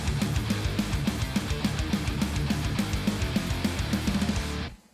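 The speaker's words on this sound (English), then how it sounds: "a fat, distorted guitar riff backed up by an equally gritty bass is the foundation of something heavy" Heavy, fat distorted electric guitar riff backed by an equally gritty bass, loud and dense with a driving rhythmic chug throughout, played alone with no talking, cutting off abruptly just before the end.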